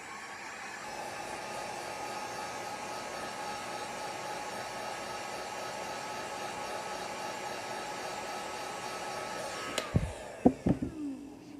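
Heat gun blowing steadily on a resin tumbler, a continuous airy whoosh that runs alone for about ten seconds before cutting off into a few sharp handling knocks.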